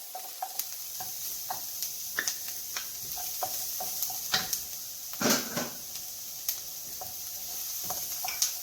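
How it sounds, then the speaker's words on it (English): Minced garlic sizzles with softened onions and olive oil in a pot, a faint steady frying crackle under repeated light spoon taps and stirs scraping the pot. "I'm going to add a little bit of garlic, maybe about 4 minced garlic cloves"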